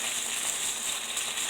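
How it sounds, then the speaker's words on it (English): Pork chops searing in a hot pan, a close, continuous crackling sizzle with bright spitting fat, holding steady throughout without any voices. "You need to hear that sizzle to get that good crust on there."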